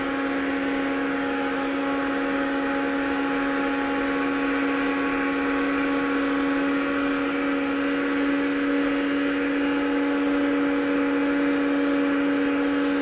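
An electric mixer running on high beats a large batch of angel food cake batter, a loud, steady motor whine with a constant hum that holds unbroken throughout.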